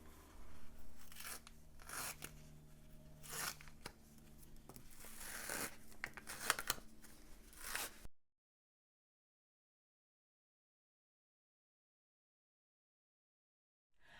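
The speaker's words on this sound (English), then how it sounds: "Now all I need to do is to remove the label paper." Label paper is peeled off printed fabric in a series of close, crackling tearing and crinkling sounds for about eight seconds, followed by silence.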